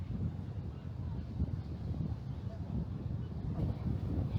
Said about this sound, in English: I might do a voiceover because it's very, very windy.